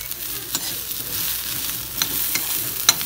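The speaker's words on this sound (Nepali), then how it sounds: "भुट्दै रहेछ काँचो मकै" Raw maize corn roasting while being stirred, a soft continuous sizzle broken by scattered sharp scraping clicks and pops at irregular intervals, close and moderately loud.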